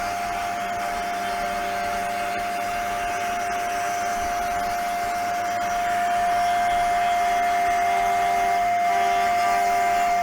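A CNC 4040 machine mills a plinth for a V8 engine build, a loud steady whine with a strong sustained tone over broadband cutting noise, continuous and close, growing slightly louder toward the end, no voices.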